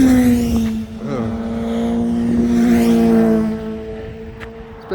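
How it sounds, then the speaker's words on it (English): Cars pass steadily on a busy road near an old runway close to Cadwell, with a loud, sustained engine and tyre roar that swells and fades as vehicles go by nearby. "It's a bit of a noisy road."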